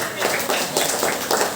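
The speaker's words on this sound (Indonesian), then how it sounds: "Tepuk tangan buat Muhammad Randy." An audience at a 10 Muharram commemoration held by a foundation in Sunter claps in steady applause for a young man. The clapping is brief, dense and continuous at moderate loudness.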